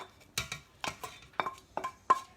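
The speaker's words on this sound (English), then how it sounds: "So I'm going to put a terracotta pot here." A terracotta pot is set down and shifted in a cookery school kitchen, giving a series of about seven short, sharp ceramic knocks and clinks at a steady pace, fairly close, with no talking over them.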